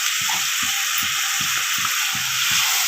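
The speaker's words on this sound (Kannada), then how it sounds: "ಸ್ವಲ್ಪ ಎಣ್ಣೆಲೇ ಬಾಡಿಸ್ಕೋಬೇಕು ನಾವು. ಎಣ್ಣೆಲಿ ಬಾಡಿದರೆ ಸಾಂಬಾರು ಚೆನ್ನಾಗಾಗುತ್ತೆ" Ground masala frying in oil for a cauliflower and potato saagu, with a constant loud sizzle and soft, regular stirring knocks underneath.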